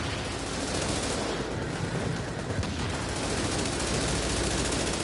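Continuous gunfire in The Division, a Lonestar PVE build firing without letup; a dense, loud barrage of rapid shots runs through the whole stretch with no talk over it.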